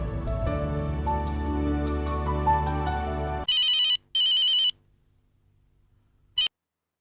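Music plays, then cuts off as a telephone rings twice in quick electronic trills, followed by silence and one short final chirp.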